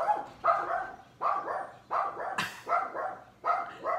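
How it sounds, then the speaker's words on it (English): A dog barks repeatedly in the background, about six bark bursts in a steady rhythm at moderate distance, with a brief sharp noise near the middle. "With a dog barking in the background"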